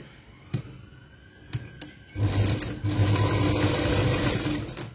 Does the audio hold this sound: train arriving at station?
no